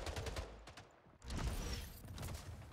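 A plasma gun in the shooter game Splitgate fires in rapid bursts of crackling shots, with a short pause between volleys and arena battle noise around it.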